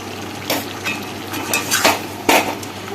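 Ginger, garlic and green chili paste being sautéed with meat in a pan, a soft ongoing sizzle broken by several sharp scrapes and knocks of a spatula against the pan, close and without speech.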